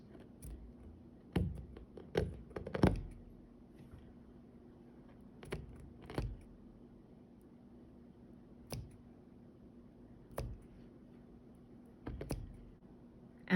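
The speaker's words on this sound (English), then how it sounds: "Now you're going to just take scissors and cut through each of your loops." Scissors snip through loops of embroidery thread in turkey-work fringe as a series of soft, close clicks, some quick pairs and others spaced a second or two apart, in a quiet room with no talk.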